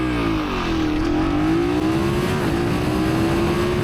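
A BMW F800 GS motorcycle accelerates hard from 0 to 100 km/h, its engine note climbing steadily in pitch through the gears, loud and close with no talk over it.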